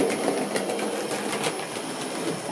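A Thomas & Friends toy model train engine, Duck, runs across a turntable onto a layout loop, giving a steady close mechanical whir and rattle with faint clicking throughout.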